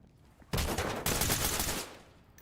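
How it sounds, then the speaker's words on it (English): Suspect's gunfire in the tactical police shooter Ready or Not: a loud, dense burst of rapid shots that starts abruptly, briefly restarts, then drops off into quiet room tone. "he's shooting at me"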